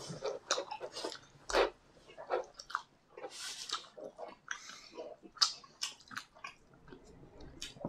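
Inari sushi being eaten, whole pieces stuffed into the mouth at once, giving a run of close, wet chewing and biting sounds with soft smacks, steady through the clip with no clear speech.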